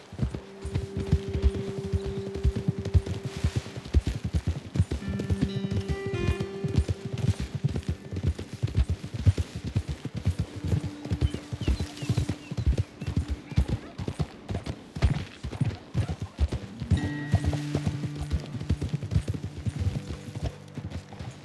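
Horse hooves clip-clopping steadily at a walking pace in the Western video game Red Dead Redemption 2, near and continuous, with a voice speaking over them and low ambient music underneath.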